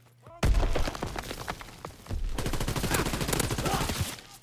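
Hip-fired gunfire in the video game Call of Duty WW2, a sudden loud burst of rapid shots followed by a second sustained automatic stream, close and punchy, with brief talk mixed in.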